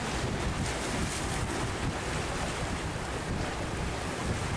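Strong force-six wind roars over the sea at the Lagi harbour mouth, with waves crashing in a dense, continuous wash and heavy wind buffeting on the microphone.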